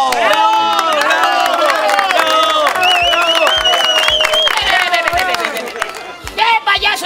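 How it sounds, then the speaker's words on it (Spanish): Street circus audience greeting a clown with loud applause and cheering, with sustained crowd noise, bright tonal music or whistles over the top, and the noise thinning into scattered claps toward the end. "vamos a recibir con un fuerte aplauso a la diversión de los niños"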